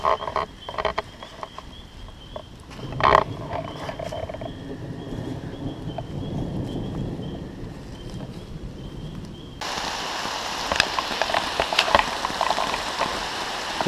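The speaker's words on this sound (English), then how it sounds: "Pitter patter of raindrops upon your head." Steady rain patters through a wilderness forest in southern Indiana, a soft continuous hiss with scattered nearby drops, frogs croaking, and the shower growing louder and denser toward the end.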